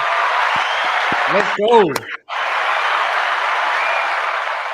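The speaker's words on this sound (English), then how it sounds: "Round of applause, man." A round of applause on a Dallas Cowboys podcast: steady, dense clapping fills the room, broken for a moment by a short shouted voice and a brief drop before the clapping resumes.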